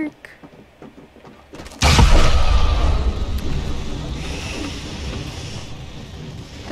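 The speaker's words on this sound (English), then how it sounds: "Wee, firework!" A firework bursts in Apex Legends with a sudden loud boom, followed by a long rumbling, crackling tail that slowly fades over several seconds.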